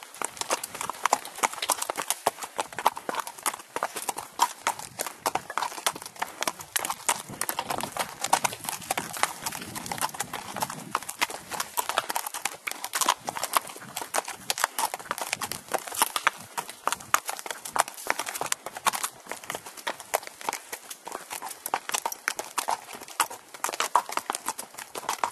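An eight-year-old quarter horse, ridden at an easy gait on a trail, plods along with steady, close clip-clop hoofbeats that continue throughout, with no talk over them.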